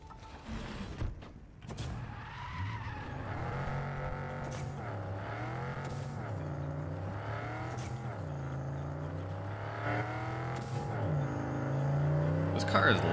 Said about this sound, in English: Car is loud on the inside.